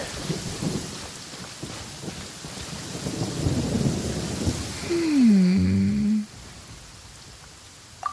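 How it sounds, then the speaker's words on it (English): Rain hisses steadily while thunder rumbles and swells in Genshin Impact, the storm loud and close before easing, with a brief gliding tone over the rumble. "Ah, it's raining?"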